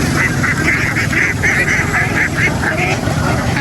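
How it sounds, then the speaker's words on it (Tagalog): Domestic ducks on a rain-soaked duck farm keep up a loud, close, continuous chorus of quacks in rapid repeated bursts, with steady background noise underneath. "ito pa lang, itik natin nasa 200 piraso"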